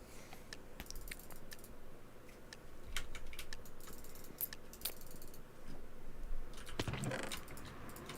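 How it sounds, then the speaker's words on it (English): A computer keyboard clatters with bursts of fast typing and sharp mouse clicks, close and fairly quiet, a denser flurry of keystrokes near the end, with no talking. "keyboard and mouse sounds"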